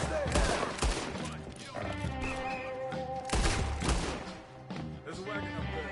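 Bursts of rapid gunfire from a GTA 5 fight, with repeated loud volleys and impacts over game music and ambience, the heaviest bursts early and again midway.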